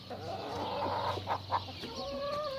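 Hens clucking in a large farmyard coop, heard as a close run of soft, throaty clucks and short calls over a low steady hum, with a rising squawk near the end.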